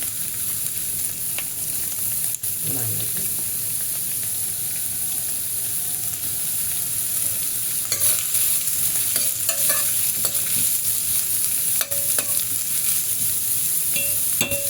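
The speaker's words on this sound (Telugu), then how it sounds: "ఇప్పుడు మనము దీంట్లో ఆనియన్స్ వేసుకుంటాము" Thinly sliced onions fry and get stirred in a pan for an Andhra cabbage tomato curry, a steady close sizzle with occasional scraping strokes of a ladle and faint clinks throughout.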